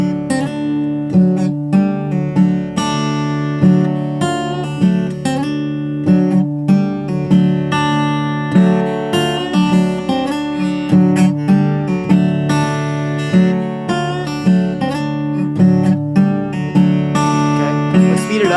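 Acoustic guitar chugs a heavy boom-chuck Delta blues pattern, steady alternating bass thumps and strummed chord hits, close and loud, played alone with no talking.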